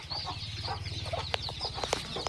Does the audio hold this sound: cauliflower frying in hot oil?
no